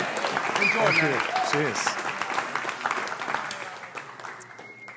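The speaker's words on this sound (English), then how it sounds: "Just a round of applause." An audience at a talk breaks into steady applause that fades gradually, with someone speaking briefly over the clapping near the start.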